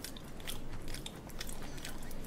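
Raw live fish is bitten and chewed up close, giving wet, crunchy bites and steady mastication that repeat in quick bursts without any talk.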